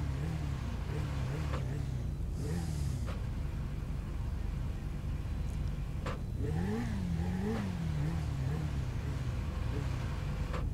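Akuma motorcycle engine in GTA 5 revving and rising and falling in pitch, with a steady loud engine drone throughout and a couple of sharper accelerations, under faint game background noise.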